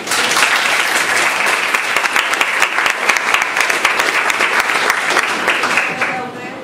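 A debate audience applauds loudly and steadily, with dense clapping that fades out at the end.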